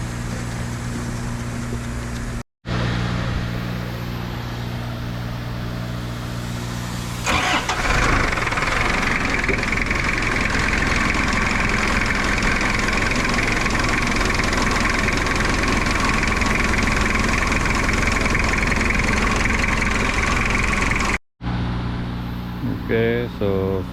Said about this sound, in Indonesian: Sekarang mau kasih hidup juga lah nih forklift.